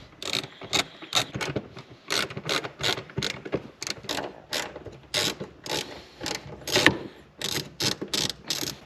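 A hand ratchet loosens 10 mm bolts on a 10th-generation Honda Civic Type R, giving repeated bursts of close, crisp clicking in an uneven rhythm with short pauses between strokes.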